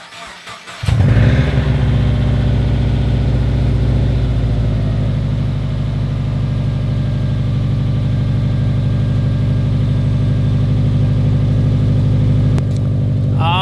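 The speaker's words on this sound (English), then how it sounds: "I haven't started the car in like 5 or 6 days, so I'm gonna do a little startup for you guys" A Subaru car left unstarted for five or six days cranks briefly and catches, then settles into a loud, close, steady idle with an even rumble that carries on for the rest of the stretch, no talking over it.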